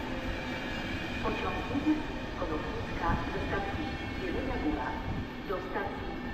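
Intercity Berlin–Warszawa Express rolling into Warszawa Zachodnia station in winter, a steady close rumble of railcars with intermittent wheel clicks and squeals, a person speaking over the noise.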